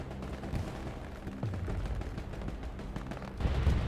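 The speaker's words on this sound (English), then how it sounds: "That's a bombing run." A bombing run in a war video game, heard as a continuous rumble of distant explosions and gunfire-like bursts that rolls on steadily and grows heavier near the end, with no talk over it.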